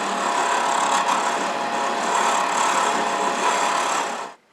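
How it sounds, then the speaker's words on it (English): Lathe facing off the front of a workpiece for a turned pocket sewing kit, a steady loud whirring cut running continuously before stopping abruptly at the end. "Before I drill, I face off the front."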